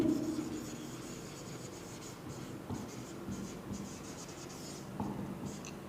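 Chalk or pen scratches steadily across a board or paper during a physics lesson on black bodies, a continuous close rubbing stroke with small rhythmic accents and no talking.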